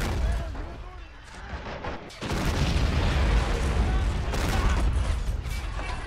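Dense, rumbling mortar fire and explosions in the Men of War army men video game, a continuous heavy barrage of booms and crackling blasts with battle noise throughout.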